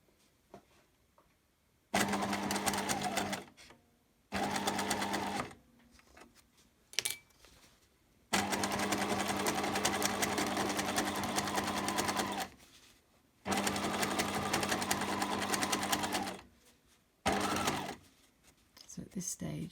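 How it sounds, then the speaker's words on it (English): A sewing machine stitching a two-zip pouch runs in several bursts of steady rapid whirring, separated by quiet pauses, close up, with a soft voice talking between the runs. "I'm now just going to sew down, just being really careful just to check as I approach these that I can feel them and the needle is going to miss them"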